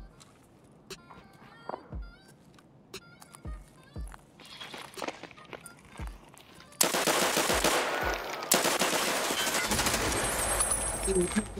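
Gunfire in Escape from Tarkov: scattered sharp shots and bursts sound across the first half, then a louder stretch of dense, continuous automatic fire fills the second half, with footsteps and movement noise mixed in.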